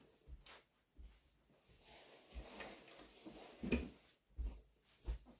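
A door in a home is pushed and bumped shut, giving several dull low thuds and knocks spread over a few seconds against a quiet room.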